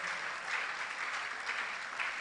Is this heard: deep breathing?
no